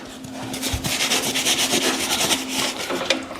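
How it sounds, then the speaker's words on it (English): Hand sanding on wood furniture gives a steady, close scratchy rubbing, with rhythmic back-and-forth strokes repeating throughout at moderate loudness. "we got the sanding done"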